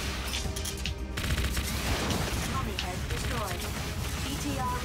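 Missiles fire in the mecha game Zone of the Enders: Second Runner as a dense, loud barrage of bursts and explosions. It is continuous and layered over game noise, with a voice briefly talking.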